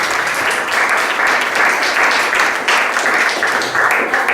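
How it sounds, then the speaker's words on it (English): Steady audience applause fills the room, a dense wash of many hands clapping at even loudness throughout, with no voices over it. "That's worth applauding"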